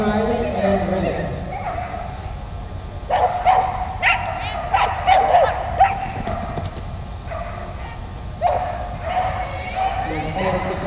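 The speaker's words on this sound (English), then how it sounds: "She will start off with her Border Collie Rivet." At an agility trial, a Border Collie barks sharply several times while running the course, set against constant crowd murmur and a commentator talking over the arena noise.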